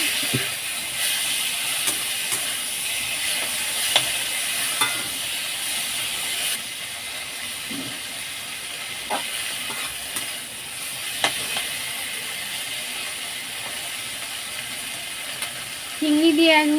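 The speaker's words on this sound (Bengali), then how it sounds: "চিংড়ি দিয়ে 1 মিনিট নাড়াচাড়া করে নিয়েছি" Small prawns coated in salt, turmeric and chilli powder fry with tomato in a pan, a steady close sizzle with intermittent scraping stirs and light clinks, no talk.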